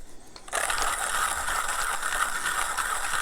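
An OE Lido OG manual coffee grinder set to a coarse grind, its handle turned steadily to crush beans in a continuous gritty, rattling grind that begins abruptly and holds at an even level with no talk.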